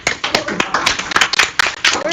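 At a singing lecture, people clap along as fast as they can to a 218 BPM tempo, sharp close hand claps in a quick, slightly uneven rhythm that keeps drifting off the beat.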